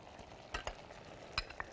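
Chicken breasts frying in a pan with oil, a quiet low sizzle broken by a few sharp crackles and pops.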